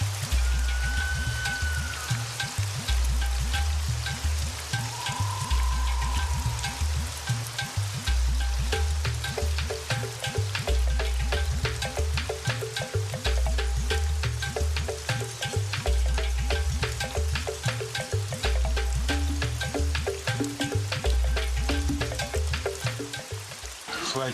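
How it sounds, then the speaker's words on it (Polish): Rain falls outdoors during a countryside trek, a dense, steady patter that stays loud and even throughout, with a rhythmic low thumping underneath. "Pada właściwie co chwila."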